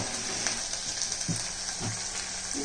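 Spices frying in a pan for carrot curry, a soft continuous sizzle with a few light stirring scrapes, fairly quiet and steady with no talk.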